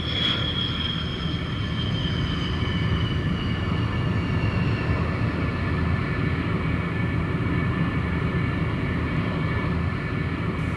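An F-86 Sabre cold war jet aircraft landing, a steady loud engine roar with a high whine that slowly descends in pitch, continuous and unbroken throughout.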